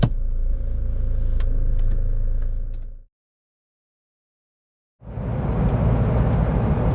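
A used camper van drives off along an expressway with a steady engine and road rumble, then cuts to two seconds of silence before louder, rushing road noise resumes.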